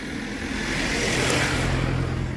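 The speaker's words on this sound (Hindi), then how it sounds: "गाड़ी भी आ जा रही है" Vehicles passing on a hill road near Lakhamandal in Uttarakhand: a steady engine rumble that swells as one vehicle draws close, then fades slightly, with no talk over it.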